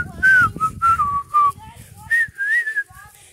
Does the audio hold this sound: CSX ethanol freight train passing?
no